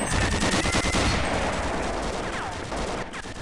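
Rapid bursts of gunfire in the shooter Gunman Chronicles, loud and dense at first, then thinning into scattered shots with faint whistling effects toward the end.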